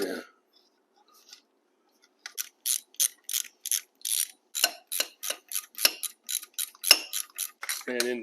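A ratchet wrench turns on a Ford 289 marine engine being torn down, after a short quiet start. A fast, close run of sharp, regular clicks follows, with a brief voice near the end.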